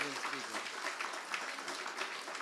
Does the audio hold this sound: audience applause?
yes